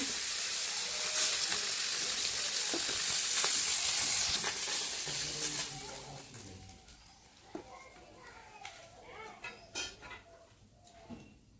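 Food fries in a pan with a loud, steady sizzle that dies down halfway, followed by quieter scraping and clinks of utensils against the pan.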